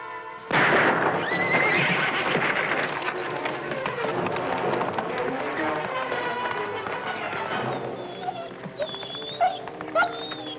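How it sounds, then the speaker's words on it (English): A horse whinnies loudly and shrilly in a single long, wavering call, followed by clattering action noise and a shorter whinny near the end, within a dense, busy soundtrack. "So I spook up the horse and he don't get on."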